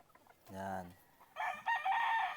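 A gamefarm broodcock rooster gives a short harmonic cluck, then launches into a loud, close crow with a rising, strained tone.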